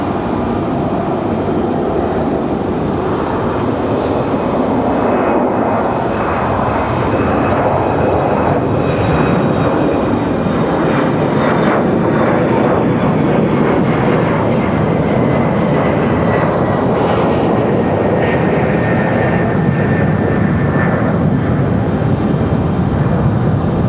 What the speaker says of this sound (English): A319 back to Miami.